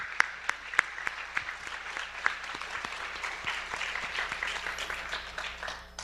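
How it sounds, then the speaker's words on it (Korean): A church congregation applauds with a swell of clapping, a few sharp individual claps standing out early before the applause thickens and continues steadily at moderate volume. "찬양팀 위해서도 또 방송실에 수고한 모든 분들 위해서 박수를 합니다"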